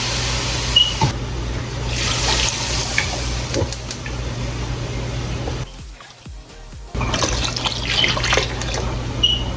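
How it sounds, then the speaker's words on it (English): Water pours steadily into a pot with a rushing, splashing sound, stopping briefly partway through before the pour resumes. "I'm gonna add some water"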